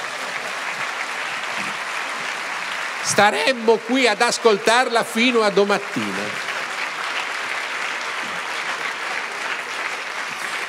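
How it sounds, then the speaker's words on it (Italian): A lecture audience applauds a history professor at a talk on democracy, dictatorship and the EU: sustained, even clapping from a sizable crowd throughout, with someone speaking briefly over it midway. "Facciamo un applauso al professore."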